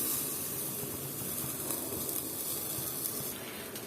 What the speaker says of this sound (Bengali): আমি আরেকটা ভেজে নেব পরোটা